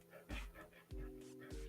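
A chained dog whining and whimpering in short bursts, fairly close and moderately loud, with panting between the cries.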